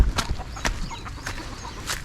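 Aseel chickens cluck nearby in short, irregular bursts, several sharp calls scattered over a couple of seconds against low background noise.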